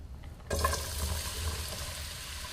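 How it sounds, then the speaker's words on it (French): Potatoes dropped into very hot fat and searing over high heat for truffade: quiet at first, then a sudden loud burst of sizzling that settles into a steady close crackle. "Je vais ajouter les pommes de terre dans cette graisse bien chaude et je vais les saisir sur feu fort"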